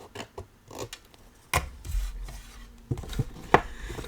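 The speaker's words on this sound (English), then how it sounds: "turning this to the side and just doing a little bit of trimming" Paper snipping and trimming for a basket craft made from pallet paper, with several short cuts and rustles at close range and no voices.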